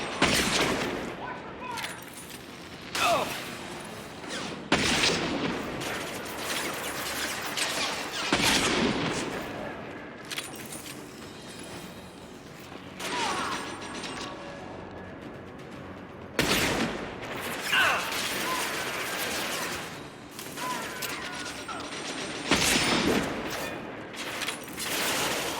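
Heavy gunfire rattles in Mass Effect 2 on Insanity difficulty, with repeated bursts and booming impacts that swell and fade across the clip while a voice speaks intermittently over the combat.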